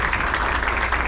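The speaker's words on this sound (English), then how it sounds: "give your parents a round of applause" At a baseball banquet, the dinner audience gives the players' parents a round of applause, heard as a brief, even wash of clapping at moderate, slightly distant volume.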